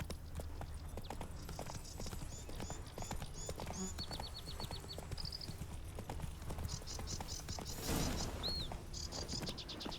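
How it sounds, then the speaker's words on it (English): Horse hooves clip-clop in a steady, rapid rhythm as a horse is ridden through the open world of the video game The Witcher 3: Wild Hunt, with birds chirping in the background and a brief whoosh near the end. "lost control of Roach there for a second. Wanted to look around. Giddy up."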